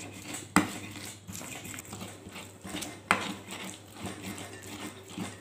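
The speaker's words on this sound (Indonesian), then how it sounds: "Bumbu ini kita haluskan dulu." Spices are ground into a paste, with irregular scraping and knocking of a grinding tool against a hard bowl and a couple of sharper knocks, close and fairly quiet.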